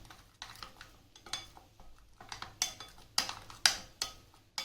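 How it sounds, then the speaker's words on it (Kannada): A spoon scrapes and clinks against a bowl while paneer tikka marinade is mixed with oil, giving a run of irregular taps that grow louder and more frequent toward the end. "ನೋಡಿ, ಚೆನ್ನಾಗಿ ಮಿಕ್ಸ್ ಮಾಡ್ಕೊಳ್ಳಿ."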